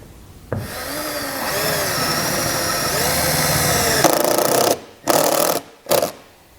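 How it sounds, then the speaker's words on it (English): A power drill whines steadily for about four seconds, driving a self-tapping screw into sheet metal on a 2019 Jeep to mount a trailer wiring ground wire, then stops and gives two shorter bursts. "Take our self-tapping screw, and we can mount that right there."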